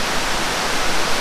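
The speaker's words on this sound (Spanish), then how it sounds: "la cascada que les había prometido para que conocieran, acá está" Santa Rita waterfall in a nature reserve, a steady broadband roar of falling water, dense and constant with no breaks, close and fairly loud with nothing else over it.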